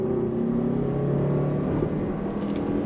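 A 2022 Toyota RAV4 Prime plug-in hybrid SUV pulling away from a stop at a traffic light, with a steady, smooth, mostly low engine and road hum heard from inside the cabin.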